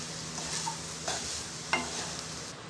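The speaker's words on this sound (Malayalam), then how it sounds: "എണ്ണ ചൂടായതിനു ശേഷം നമുക്ക് ബ്രെഡ് സ്ലൈസസിനെ ഇട്ട് കൊടുക്കാം. ഇതിനെ ഒന്ന് ടോസ്റ്റ് ചെയ്തെടുക്കാം." Bread slices toasting in hot oil in a pan, a steady close sizzle with a few soft scraping stirs and a brief clink, no talking.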